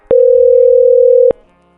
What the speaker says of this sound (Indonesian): Di sini sudah ringing, lalu incoming call ada di notifikasi host.